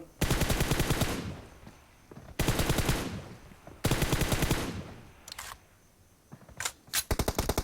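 Pistol gunfire from a mobile shooting game rings out in loud bursts of rapid shots, three long volleys separated by pauses, then a few short quick bursts near the end.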